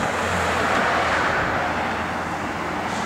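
A 1970 Ford Mustang Mach 1 engine runs steadily at idle, a continuous deep rumble with an even, unbroken level and no talk over it.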